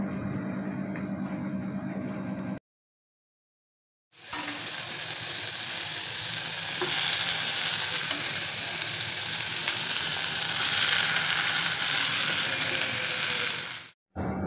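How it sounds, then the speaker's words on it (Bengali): Mushrooms sizzle and fry in oil in a pan while being stirred, a dense steady hiss that swells louder after a brief silent break, with no talking. "নাড়াচাড়া করে নেওয়ার পর ভালোভাবে ভাজা হয়ে গেলে একটা বাটির মধ্যে আমি তুলে নেব।"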